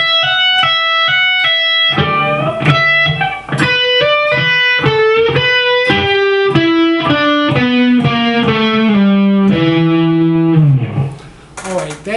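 Distorted electric guitar plays a lead line, opening with repeated picked notes, then a descending run of sustained bent and slid notes, loud and close, ending with a fading final note.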